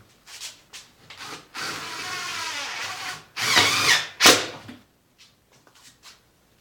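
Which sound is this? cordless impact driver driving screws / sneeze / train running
cordless impact driver driving screws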